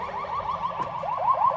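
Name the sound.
ambulance siren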